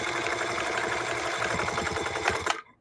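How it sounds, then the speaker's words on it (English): A sewing machine runs steadily while stitching an upcycled denim jeans hobo bag, its rapid needle chatter close and continuous before stopping abruptly near the end. "now I can just sew"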